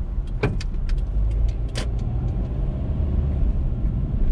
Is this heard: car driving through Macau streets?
yes